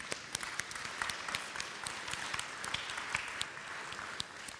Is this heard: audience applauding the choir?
yes